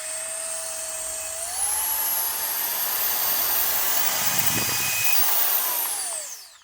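A handheld USB-C rechargeable electric air blower runs alone, a steady high-pitched whine that steps up in speed after a second or two, holds, then spins down at the end.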